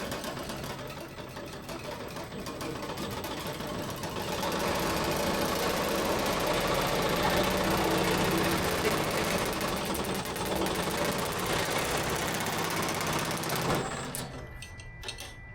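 A Grizzly power hammer working an aluminum test piece, a rapid continuous mechanical pounding with a motor hum, steady and close for most of the run before winding down abruptly near the end.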